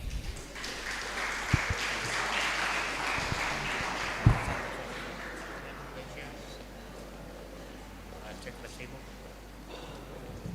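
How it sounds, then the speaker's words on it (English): Applause at a Year 13 graduation ceremony for the Class of 2022, a broad wash of clapping in a hall that swells early and gradually fades over about ten seconds. "A round of applause to these budding scholars of literature."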